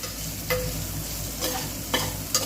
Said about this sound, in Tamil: எல்லாத்தையும் சேர்த்துட்டு நம்ம கிண்டி விடலாம். பாருங்கள், வெங்காயம் நல்லா வணங்கி வருது.